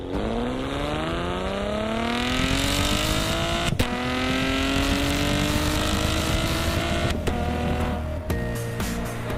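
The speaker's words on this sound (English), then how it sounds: "unexpectedly vicious exhaust note, particularly during full-throttle gear changes" A 2017 Chevrolet Camaro V6 engine revs hard and climbs in pitch through the gears, with sharp exhaust cracks at each full-throttle shift. Loud and close, with no voices.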